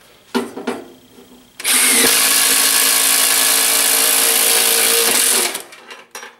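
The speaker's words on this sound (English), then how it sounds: "it is amazing to me that I'm doing this with an impact driver" A Milwaukee M18 FUEL impact driver drives a 1 3/8 inch hole saw through material, with a loud sustained whine lasting several seconds after a brief start, then winding down, alone and close.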